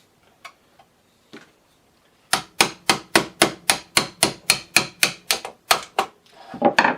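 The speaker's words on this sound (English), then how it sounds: "I'm going to take this and drive that pin out." A hammer drives out a trigger group pin on a Ruger rifle during an Elite 452 AR-trigger installation, about fifteen sharp, evenly spaced metallic taps in a quick steady rhythm after a few faint knocks.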